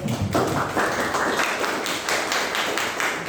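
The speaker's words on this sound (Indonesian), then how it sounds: "Tepuk tangan dulu untuk kelompok 2." Classroom applause for a student group, a dense, steady wash of many hands clapping together at close range, sustained throughout with no talk over it.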